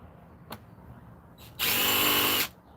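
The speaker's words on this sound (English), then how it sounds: "So I'm just going to drill some holes in this guy." Power drill boring holes in a worm bin tower: a couple of short trigger taps, then one steady, close, loud whirring burst of about a second before it stops.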